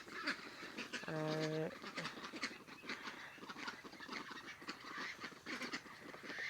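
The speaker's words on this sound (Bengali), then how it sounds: "ওই যে দেখেন আমার হাঁস" Several of a flock of eleven domestic ducks calling in a yard, one loud harmonic honk-like call around the middle standing out among busy outdoor noise, with someone talking over them throughout.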